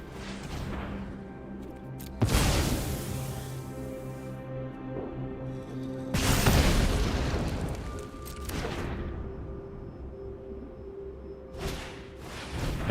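Booming explosion effect from the Excavation Explosion card in MTG Arena, with two big broadband blasts rolling out over several seconds amid layered game music and smaller crackling hits.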